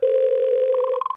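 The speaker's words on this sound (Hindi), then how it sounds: "जालिम सिंह को तुरंत फोन लगाओ" A telephone dial tone hums steadily through a call being placed to someone, continuous and close, ending abruptly after about a second; no voices.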